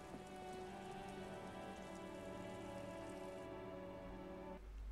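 Steady rain in the video game Disco Elysium patters on surfaces as an even, continuous wash, with sustained musical tones layered over it until a sudden drop near the end.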